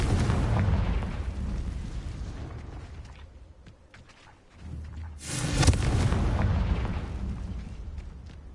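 Confringo spell blast in the video game Hogwarts Legacy, a loud rumbling explosion that fades into a brief lull, then a second sharp burst swells and roars on to the end with no talking.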